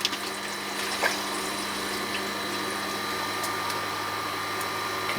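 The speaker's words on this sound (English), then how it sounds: "And I'll turn this pump on." A koi pond water pump runs with a steady, continuous hum and watery rush, alone and fairly close, with a few faint clicks over the constant drone.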